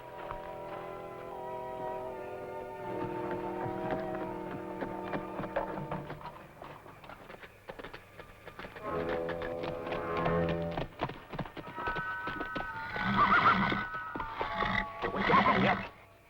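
Horses in a corral whinny and neigh repeatedly, with loud, high, drawn-out calls that rise and fall over faint background movement.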